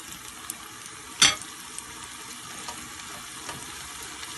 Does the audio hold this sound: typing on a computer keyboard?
no